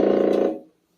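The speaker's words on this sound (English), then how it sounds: "And then this is the sound of the picture tube." Buzz from a television picture tube, a loud, close, harmonically rich electrical drone with a slight pulsing flutter that lasts about half a second before fading out.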